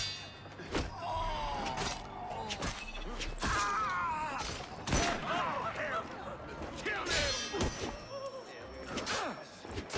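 Gunfire in the video game Assassin's Creed Unity: several sharp, loud shots crack at irregular intervals amid game combat noise and music, with someone talking over much of it.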